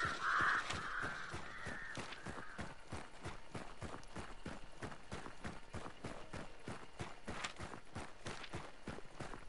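Crows caw repeatedly in a video game, mixed with a steady rhythmic patter of running footsteps throughout, the birds loud and close at the start and then recurring in short calls.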